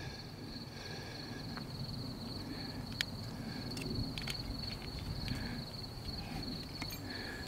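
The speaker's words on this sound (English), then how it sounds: "There's some nice crickets here." Crickets at a night-time desert campsite trill in a steady high-pitched drone, joined by faint rustles and a few soft ticks close by.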